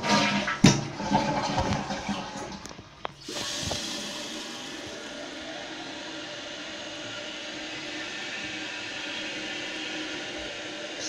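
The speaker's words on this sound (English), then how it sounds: "This tank fills up very fast." A 2015 Glacier Bay toilet flushes with a rushing gurgle, then a steady hissing stream of water quickly refills the tank, continuing evenly at moderate volume.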